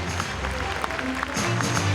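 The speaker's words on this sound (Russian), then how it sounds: "Под ваши бурные аплодисменты, дорогие друзья" Applause from the audience at a Chuvash national congress award ceremony for the Yadrin community, a steady dense clatter of clapping that holds at an even level throughout, with no voices over it.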